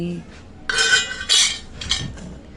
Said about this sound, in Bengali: একটু কড়ার মধ্যে নেড়ে নেব